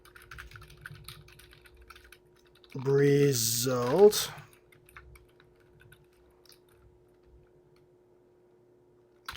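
Light clicking keystrokes on a computer keyboard tap out intermittently, quiet and close, interrupted by a short spoken word partway through.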